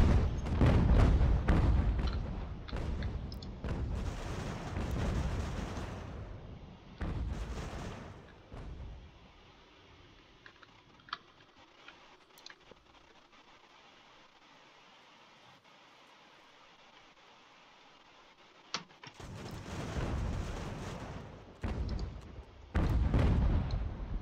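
Artillery fire from the American Revolution strategy game Ultimate General, heard as booming bursts and rumbling cannon volleys at the start and end, with a quieter stretch in between.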